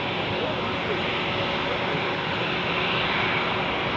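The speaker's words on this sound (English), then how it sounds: "now on stage the Delta Airlines 767 to Atlanta" A Delta Airlines Boeing 767 bound for Atlanta begins rolling at Zurich airport, its jet engines a steady broadband roar throughout, with a person talking over it and a faint tone running beneath.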